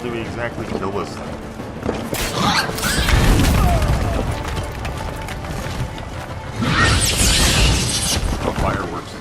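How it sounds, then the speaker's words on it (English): Fireworks burst and crackle in Witcher 3: Blood and Wine, with loud rumbling booms in two dense waves under a continuous game soundscape. "Oh, fireworks."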